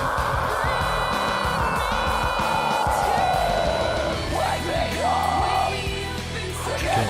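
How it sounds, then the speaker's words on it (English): Loud metal song with harsh, real screamed vocals, sustained yelling and bellowing over dense guitars and drums, continuous and near throughout. "Always wanted to hear this song with some real screams."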